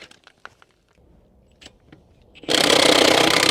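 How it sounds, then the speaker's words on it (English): A big-body Milwaukee impact wrench loosens wheel lug nuts on a BMW, starting with scattered metallic clicks and taps before breaking into a loud, steady hammering rattle that fills the last second. "we got a Milwaukee impact right here, just the big body"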